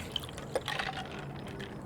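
A shaken cocktail for an Irish Flag drink is poured out of the shaker, a brief, faint liquid splash and trickle lasting under two seconds.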